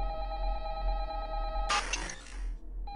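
A telephone rings in the horror game Five Nights at Candy's 2, a sustained electronic bell tone that cuts off abruptly, followed by a burst of harsh noise and a brief return of the ring at the end.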